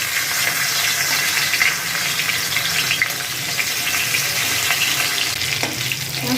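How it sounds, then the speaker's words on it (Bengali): Hilsa fish heads fry in hot mustard oil with a dense, continuous crackling sizzle, loud and close throughout, spattering evenly without pauses or talk. "এখানে আমি ইলিশ মাছের মাথা ভেজে নিচ্ছি।"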